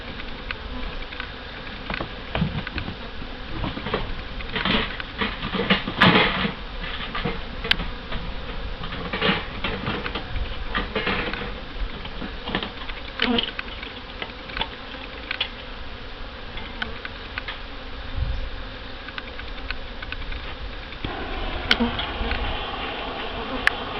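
Honey bees buzzing around an open hive during a mid-July inspection, a dense, continuous close-up drone with occasional louder passes near the microphone.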